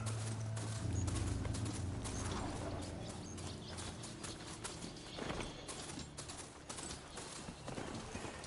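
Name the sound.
horse galloping in a video game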